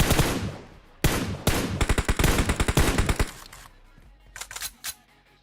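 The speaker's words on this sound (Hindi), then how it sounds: "अभी भी नीचे स्कूल की तरफ से दबा के गोलियां चल रही है" Heavy automatic gunfire in PUBG Mobile, loud near bursts of rapid shots for about three seconds, then quieter scattered distant shots from down toward a school area.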